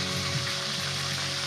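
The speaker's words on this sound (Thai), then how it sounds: "ทอดปลาส้มครับ" Fermented fish (pla som) frying in a pan, a steady, close, loud hiss of sizzling oil that runs unbroken without any talk.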